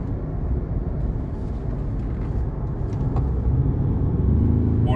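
A Ford Ranger Raptor pickup driving in four-wheel drive, heard from inside as a steady, fairly loud low engine and road rumble that swells slightly toward the end, with no talking.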